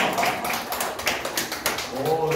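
A church congregation claps for the wives during a Sunday sermon, a steady patter of many hands filling the room at moderate volume, with a voice speaking over it.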